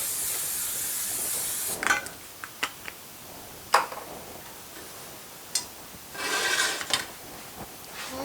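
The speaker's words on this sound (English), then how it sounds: "I'm going to spray my pan and get it ready." Cooking spray hisses onto a baking pan while chicken parmesan is being prepared, first as a long, close spray, then a few light clicks and clatters, then a second, shorter burst.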